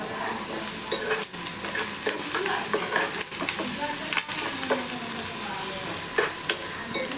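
Spoon stirring turmeric and ginger-garlic paste into onions frying in a pan for a meal-maker masala curry, with a steady close sizzle and repeated scraping strokes throughout, no voices.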